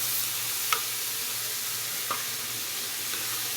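Shrimp and chopped tomatoes sizzle steadily in a hot frying pan, a continuous frying hiss broken by a few soft stirring clicks.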